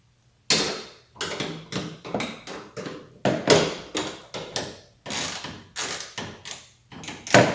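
Ratchet tightening a pop-up headlight adjustment on a Porsche 944: a rapid series of crisp mechanical clicks in short bursts, close and clear, with brief pauses between strokes.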